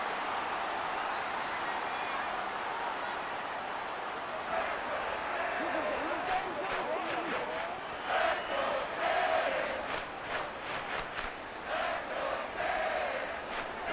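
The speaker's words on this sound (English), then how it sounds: "This crowd doing all they can." A simulated stadium crowd in the Madden 24 football video game, Titans against Dolphins, roars steadily, swelling and rising in bursts toward the end, with a commentator talking over the noise.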